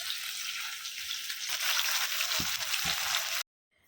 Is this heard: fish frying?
yes